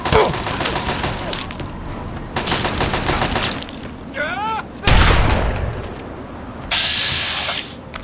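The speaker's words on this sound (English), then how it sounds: "Hope the shotgun works." Shotgun blasts in the video game Fallout 3 ring out as a few loud, sharp bursts set among rattling gunfire and game noise, with a brief voice heard between shots.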